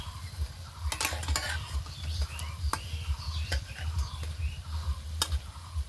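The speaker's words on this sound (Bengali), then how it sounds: "এগুলো একটু হালকা ব্রাউন কালার করে ভেজে নেব।" Egg parathas fry in hot oil until light brown, a busy crackling sizzle with rapid bubbling pops and a few sharp clinks of a spatula against the pan, close and fairly loud.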